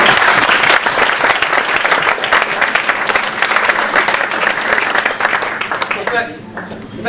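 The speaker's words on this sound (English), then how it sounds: "So can we give them a big round of applause?" Wedding guests burst into loud, sustained applause for the best friends, dense clapping filling the room with some crowd voices mixed in, then thinning out toward the end.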